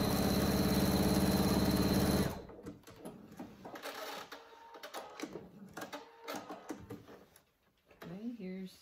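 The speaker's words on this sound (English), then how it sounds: "I'm going to start back stitch, sew 2 or 3 inches, and then back stitch and stop." A sewing machine runs steadily for about two seconds while stitching a cat carrier cover, loud and close with an even mechanical whir, then cuts off, leaving quieter handling sounds and a voice speaking.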